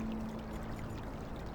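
Water pours steadily in a Black Mirror III game scene, a continuous moderately loud stream with no pauses and no speech over it.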